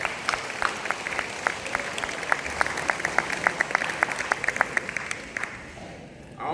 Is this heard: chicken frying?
no